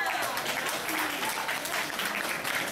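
An audience at a Year 12 formal gives teachers a sustained round of applause, dense steady clapping filling the room throughout with no pauses.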